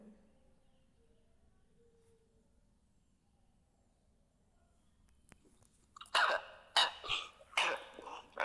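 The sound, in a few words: coughing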